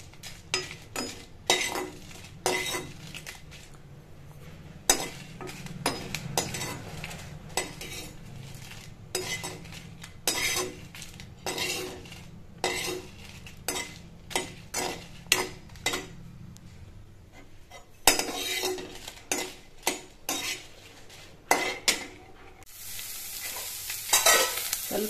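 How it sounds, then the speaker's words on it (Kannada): Garlic and onion frying in oil in a pan while a spoon stirs, a steady sizzle under repeated scraping and clinking strokes against the metal, close and continuous, with no speech. "ಸ್ವಲ್ಪ ಎಣ್ಣೆ ಹಾಕಿದ್ದೀನಿ. ಬೆಳ್ಳುಳ್ಳಿ ಹಾಕ್ಕೊಂಡಿದ್ದೀನಿ. ಒಂದು ಸ್ವಲ್ಪ ಈರುಳ್ಳಿ ಹಾಕ್ಕೊಂಡಿದ್ದೀನಿ. ಎಲ್ಲ ಸ್ವಲ್ಪ ಫ್ರೈ ಮಾಡ್ಕೊತೀನಿ."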